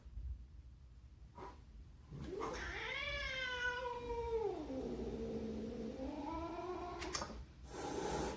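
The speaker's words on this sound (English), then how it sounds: "This cat does not approve of the use of black magic." A cat lets out one long, drawn-out, wavering meow that bends up and down in pitch like a yowl, fairly quiet and alone, with a few soft knocks before and after it.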